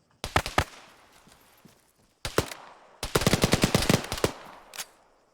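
Video game gunfire in a Theseus firefight: several sharp bursts of rapid automatic shots, close and loud, with short gaps between volleys and a longer, dense string of shots near the end.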